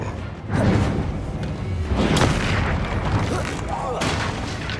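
Confringo blasting spells from the wizard game Hogwarts Legacy go off as a string of heavy booms with whooshing bursts, loud and close, roughly three blasts spread over a few seconds amid battle noise.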